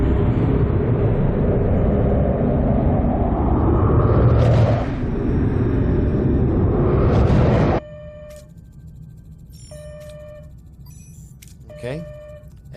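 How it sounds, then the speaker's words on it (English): A starship in a Star Trek Voyager game jumps to slipstream: a loud sustained rumbling whoosh with rising swells cuts off abruptly, followed by quiet interface beeps and tones. "And we're jumping to Slipstream."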